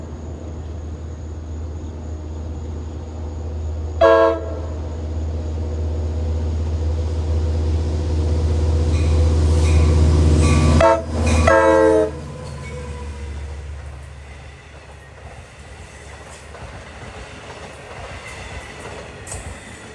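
A Long Island Rail Road train on the Montauk Branch rumbles past close by with a steady low roar, its horn blasting in short bursts before the noise fades into the distance.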